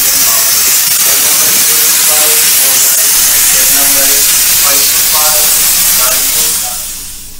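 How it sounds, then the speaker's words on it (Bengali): A steam locomotive of the Darjeeling toy train hisses loudly and steadily at a stop while taking on coal and water, with faint rhythmic mechanical tones beneath before the hiss fades at the end. "এই হলো আমাদের স্টিম ইঞ্জিন চালিত সেই ট্রেন।"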